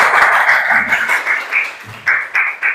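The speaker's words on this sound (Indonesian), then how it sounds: "Kasih aplaus dulu untuk teman-teman yang sudah berani menyimpulkan ya" Applause in a classroom as students clap for classmates who summarized the lesson, a steady bright patter of many hands lasting a few seconds, with louder bursts of clapping near the end.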